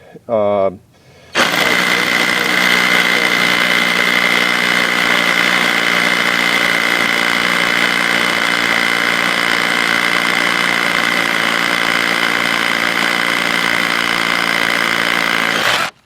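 A loud, steady mechanical drilling drone runs without a break after a short pause, a DeWalt DC999 SDS rotary hammer drill on hammer action boring continuously into brick.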